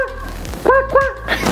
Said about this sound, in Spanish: Ahorita viene mis perros ladrando